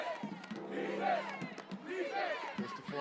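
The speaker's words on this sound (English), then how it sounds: "The crowd exhorts the team." A high school football stadium crowd at Huffman High's home game yells and cheers in short, rising bursts, a fairly distant, rowdy chorus of voices lasting only a few seconds.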